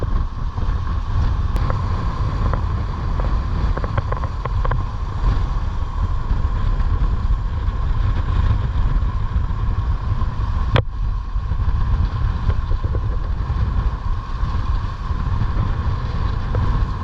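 Wind on the Janner II sailboat passing through a front: a dense, steady roar of gusting air and microphone buffeting that continues throughout, loud and close, with water and hull noise under it and one sharp knock partway through.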